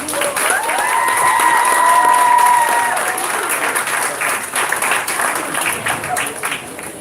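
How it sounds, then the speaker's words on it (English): Sustained audience applause honouring an award recipient at a Trelawny parish community-service recognition, dense clapping swelling early then tapering slightly, with a brief whistle-like tone near the start and faint crowd murmur underneath. "deserves a rounding round of applause, people"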